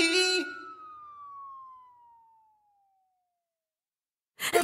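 A police car siren winds down after a short burst, a single tone sliding steadily lower and fading into silence before another sound cuts in at the end.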